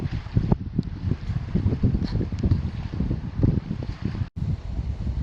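Wind blowing steadily across a lake in the Boundary Waters during a solo canoe trip in August, a continuous outdoor rush with low rumbling gusts and no talking.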